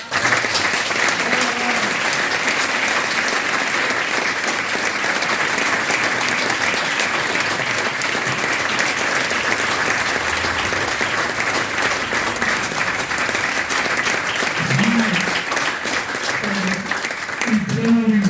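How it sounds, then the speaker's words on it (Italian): Sustained applause from a live audience at a book presentation in Mortegliano, dense steady clapping filling the whole stretch at even loudness, with occasional voices faintly underneath. "Applauso"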